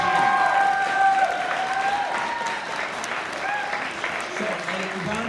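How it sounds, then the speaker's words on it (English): An audience applauds award winners at a Shakespeare competition awards ceremony, the dense clapping sustained for several seconds with a speaker's voice over it. "So, a round of applause to our award winners."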